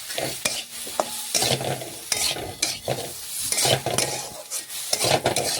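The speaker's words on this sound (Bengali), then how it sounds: "এইভাবে দেখুন মিশিয়ে আলুগুলো ভেজে নিয়েছি।" Potatoes coated in red chilli powder fry in a pan for a Bengali paneer posto dish, with rhythmic spatula strokes scraping and clattering over a soft sizzle, close and steady.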